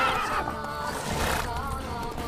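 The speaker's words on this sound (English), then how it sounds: "Spooking my horse." A horse in The Witcher 3, spooked by a ghost, gives a loud, close, drawn-out whinny lasting a couple of seconds.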